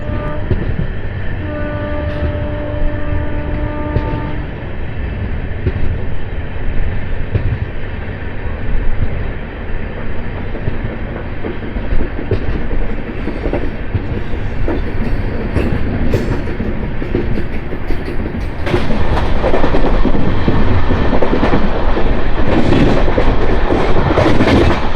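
A train pulling away from Piduguralla railway station on the Guntur to Vikarabad run rolls steadily and loudly, with a horn blowing early on and the rumble swelling near the end.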